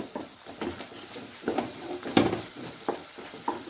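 Masala spice paste for Punjabi whole moth dal sizzles in a pan, a close steady frying crackle broken by repeated stirring scrapes and soft pops.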